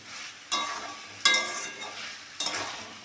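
Chicken being stirred and sautéed for a hotel-style curry: three or four distinct bursts of sizzling scrape as the spatula turns the pieces, each fading back to a softer steady frying hiss.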